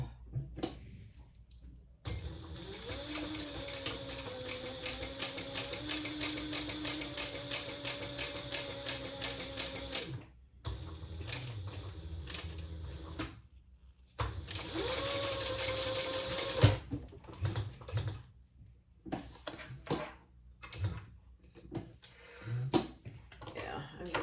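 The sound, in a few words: sewing machine top stitching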